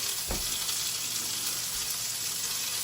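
Steaks searing in a hot pan give a steady, close, crackling sizzle throughout, with one soft thump early on and no talking.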